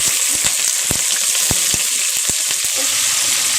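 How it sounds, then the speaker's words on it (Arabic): Chicken pieces frying in hot oil, a dense continuous sizzle with scattered sharp pops and crackles throughout, close and loud with no talk. "دلوقتي الزيت بتاعي سخن فانا هنزل بالفراخ"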